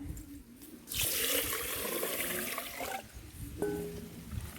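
Water gushes steadily into a container for rinsing rice and mung dal, close by, then eases to a trickle over quiet background noise.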